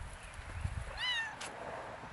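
A nursing mother cat, a stray, gives one rising-and-falling meow, fairly close but soft, over low background rumble.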